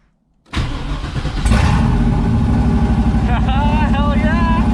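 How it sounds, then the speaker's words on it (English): A V8 engine in a Volvo running Holley Terminator X fuel injection cranks and fires up abruptly, then settles into a loud, close rough idle with revving, and a voice speaks over it near the end. "Crank the engine."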